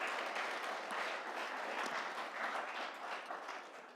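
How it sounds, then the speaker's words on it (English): A seated audience at a talk on gender identity and human sexuality applauds steadily, a faint, even wash of clapping that lasts a few seconds. "give John a round of applause, man"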